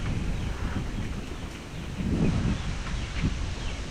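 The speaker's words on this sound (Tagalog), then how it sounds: "Papunta dito yung hangin eh." Strong gusty wind after a typhoon roars steadily through bamboo, swelling in heavy surges with a low buffeting rumble.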